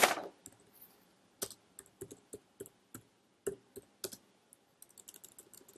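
Close, quiet keystrokes tap out irregular bursts on a computer keyboard while text is entered in Prezi, with a few sharper clicks among them.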